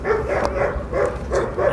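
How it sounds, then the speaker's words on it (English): Dogs barking around Valencia, Spain, in rhythmic bursts of yaps and woofs at moderate distance, repeating several times over a steady urban background with no talk. "There's a lot of dog barking going on, continuous dog barking"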